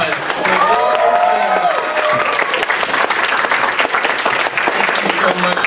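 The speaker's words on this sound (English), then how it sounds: "Everybody, round of applause for" Sustained audience applause and cheering from a crowd at a Q&A panel at the Crystal Fair 2015 fan convention, loud and continuous throughout, with a voice speaking briefly over it near the start.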